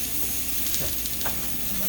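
Italian sausages sizzle in a frying pan, a steady soft hiss and crackle with faint pops, heard close and alone at low volume.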